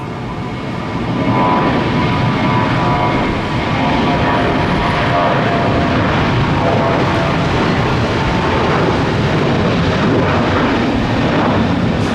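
A Boeing airliner departs Tampa airport bound for JFK, its engines roaring loud and steady for the whole stretch with no talk over it.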